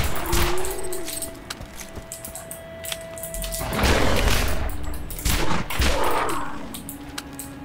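Pistol shots ring out in the video game Borderlands, a string of sharp cracks spread across several seconds with heavier clusters midway and near the end, loud and close with game noise between them.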